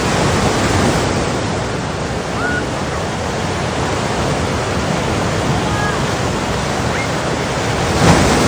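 Ocean waves breaking on rocky shore, a continuous loud wash of surf roar with a slight swell near the end, heard alone without talk.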